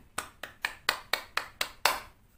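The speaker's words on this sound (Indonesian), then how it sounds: "Kita beri tepuk tangan dulu ya buat temannya yang udah berani maju ke depan" An elementary classroom claps for a classmate who came to the front: eight crisp, evenly spaced claps in a steady rhythm, close and fairly quiet, with no talking.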